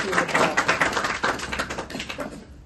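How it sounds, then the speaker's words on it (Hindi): Brisk applause from a school audience, a short burst of many hands clapping in a dense, uneven patter that swells and then fades over a few seconds. "मैं एक बार जोरदार ताली से आमंत्रित करिए सबको"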